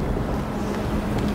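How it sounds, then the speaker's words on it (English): Stormy wind roars steadily through a Gotham Knights game scene, a dense, rumbling, broadband gust at constant loudness with no voices over it. "Belfry wasn't kidding about this storm."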